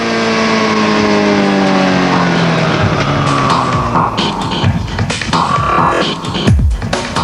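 A 2001 Suzuki GSX-R1000 sport motorcycle engine revs loud and close, its pitch climbing smoothly and then breaking into rougher, throbbing blips of throttle.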